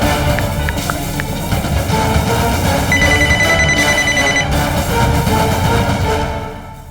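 Outgoing phone call ringing back through the handset, repeated ringback tones over a dense, loud bed of background noise, with no speech until the call connects.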